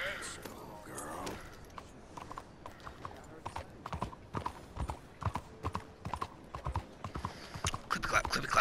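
Steady horse hoofbeats in Red Dead Redemption 2 clop along in a trotting rhythm, close and distinct, with a voice speaking briefly near the start.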